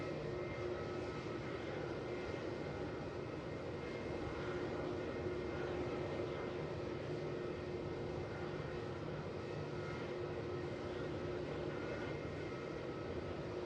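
A fixed-wing airliner on its takeoff roll from runway 27 at Melbourne Airport, a steady, broad engine roar holding evenly throughout with no voices over it.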